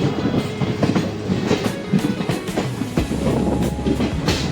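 A DEMU diesel-electric multiple-unit train rolls into the platform at Alnavar junction, heard from on board: a steady rumble with rhythmic clickety-clack of wheels over rail joints, fairly loud and continuous.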